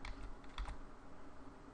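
A few quick keystrokes tap on a computer keyboard, faint and close, alone against a quiet room hiss.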